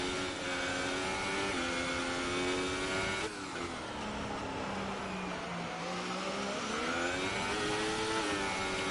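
An F1 race car in a video game, Bahrain Grand Prix, accelerating out of the pits with a loud, steady engine drone whose pitch climbs, drops with a short shift, then rises again.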